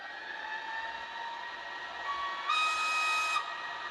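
Roco Swiss BLS model locomotive with an ESU LokSound 5 decoder giving off a steady hissing steam-like rush with a tonal whistle that swells and holds near the end, close and moderate, no talking.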